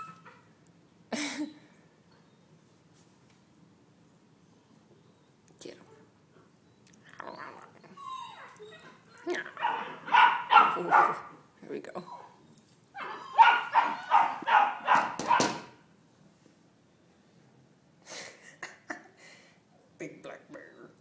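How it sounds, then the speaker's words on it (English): A small puppy barks and yips in short, scattered bursts at close range while a person talks excitedly over and between the barks. "Ooh, bark at him. Ruff, ruff."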